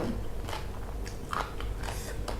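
Close crunching bites into crab shell from a spicy Thai seafood papaya salad, several crisp cracks and chewing crunches spread irregularly over a couple of seconds.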